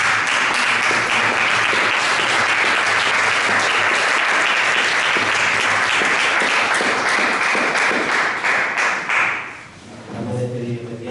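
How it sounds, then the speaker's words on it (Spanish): Congregation at a Spanish-language church service applauding loudly and continuously, a dense wall of clapping with voices mixed in, fading near the end as a voice speaks. "Dale un fuerte aplauso a nuestro Señor."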